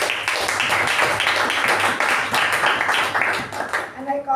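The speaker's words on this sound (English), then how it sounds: "So a big round of applause to Toastmaster Apoorva." Audience at a Toastmasters meeting applauds, a full, steady burst of many hands clapping for about four seconds before it quickly dies away to near quiet.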